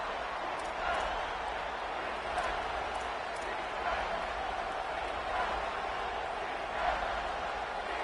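Football stadium crowd roaring in overtime of a Texas A&M vs Penn State game, a steady dense wash of cheering that swells and surges throughout, with faint commentary voices underneath.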